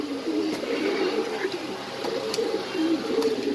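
Fancy pigeons in a loft give soft, continuous low cooing with faint rustling and occasional brief clicks, steady and fairly close, with no talking.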